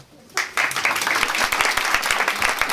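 Applause from a theatre audience at a stand-up comedy show, breaking out suddenly after a brief quiet and continuing as dense steady clapping.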